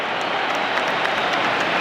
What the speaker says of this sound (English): a lot of the Italian around us are standing up to applaud